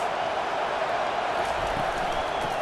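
Stadium crowd noise from a Northwestern versus Washington college football video game, a steady, dense roar of many voices, continuous and fairly loud with no clear talk on top.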